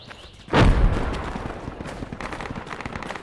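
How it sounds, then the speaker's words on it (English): Mortar fire in the military video game Project Reality, a single heavy boom bursting in close and loud, then rumbling away under scattered distant gunfire. "Oh, they're getting mortar now."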